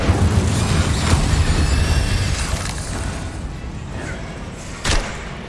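Incendio fire spell cast in Hogwarts Legacy: loud, roaring fiery bursts with a dense rumbling low end, plus a sharp impact crack near the end.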